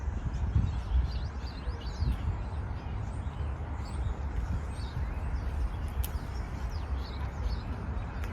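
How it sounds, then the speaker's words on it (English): Birds chirp and call among the trees of Carl Schurz Park in New York City, faint scattered tweets over steady outdoor city rumble and wind throughout. "The birds of Schurz Park."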